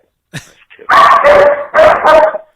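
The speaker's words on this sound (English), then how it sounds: "That's my dog." A dog barks several times in quick bursts, close and loud, after a brief whimpering yip at the start.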